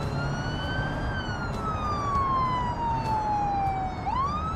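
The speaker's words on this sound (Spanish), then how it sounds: "Sirena para más emoción." Police car siren in the BeamNG.drive driving game: a single loud wailing tone sweeps slowly downward over several seconds, then jumps back up, steady over constant engine and road noise.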